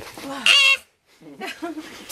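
A bird calls loudly and nasally once, a short honking cry in an outdoor setting in the Atacama, with voices talking before and after it.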